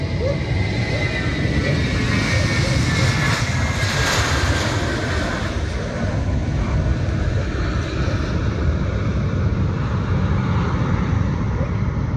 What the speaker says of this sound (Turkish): Uçak gidiyor.